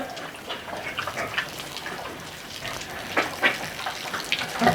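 A gravity-fed shower at low pressure sprays water over a pig, giving a steady soft hiss and splatter with a few louder splashes near the end, with no voices.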